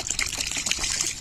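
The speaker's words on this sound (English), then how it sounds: "in goes my purified water" Purified water pours steadily into an organic soil substrate mix for an aquarium tank, a brief continuous splashing trickle heard close and alone.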